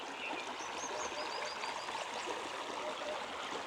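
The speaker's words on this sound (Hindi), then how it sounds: "ये पानी को, चलते पानी को देखना और ग्रीनरी को देखना" Stream water flows past greenery in a steady, continuous rush that stays at an even level throughout, with faint high chirps over the wash and no one speaking.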